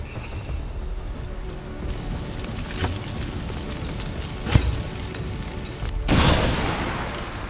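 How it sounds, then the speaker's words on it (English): Grenade explosion in the XCOM 2 video game, several booming game impacts over a dense noisy background, a sharp blast near the middle and a heavier rumbling burst toward the end. "grenade out!"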